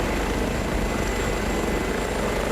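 An H145 helicopter in Microsoft Flight Simulator gives off a loud, constant rotor and turbine roar, a dense unbroken drone with a faint high whine above it.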